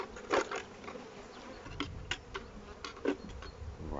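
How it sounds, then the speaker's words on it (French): A swarm of honey bees is poured onto a cloth slope, giving a steady insect buzz with a few brief louder bursts and soft rustling thumps, close and alone with no talk. "À présent, je verse l'essaim sur le plan incliné formé avec la serpillière."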